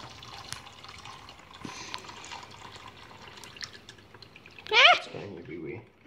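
Liquid mix of ethanol and cannabis resin pours and spills from a container during filtration, a brief splashing gush standing out near the end above a soft, steady background with a few faint drips.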